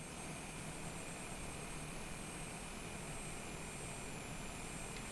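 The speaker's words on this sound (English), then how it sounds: "we are now aboard the Cessna Longitude, back at Leeds Bradford" Cessna Longitude jet engines hum in a steady, faint, even drone inside Microsoft Flight Simulator at Leeds Bradford, with no talk.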